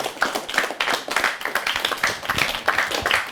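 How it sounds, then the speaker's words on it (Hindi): Audience clapping at a national children's award ceremony, steady dense applause from a seated crowd, fairly close and continuous for a few seconds with no voices over it. "तालियां आपके लिए।"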